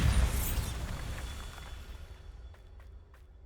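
A Bombarda spell explosion in Hogwarts Legacy opens with a loud, deep boom that rumbles and slowly fades, followed by a few faint clicks.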